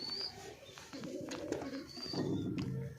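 Pigeons at a nest with eggs, male and female birds, giving low murmuring coos and faint rustling, soft and close-by over a gentle noisy background, without speech.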